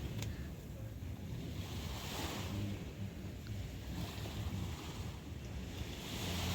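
Ocean waves wash at the seaside under steady wind buffeting the microphone, a continuous low surf roar with gentle swells and no voices.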